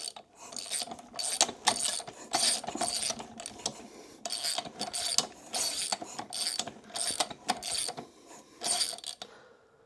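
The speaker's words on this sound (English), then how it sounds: "go ahead and make a couple of full revolutions, bring it back up to top dead center on the compression stroke" A 2017 Kawasaki KX450F engine is turned over by hand with a wrench through a couple of full revolutions to top dead center, giving a rhythmic series of ratcheting clicks in repeated bursts, close and clear with no talk.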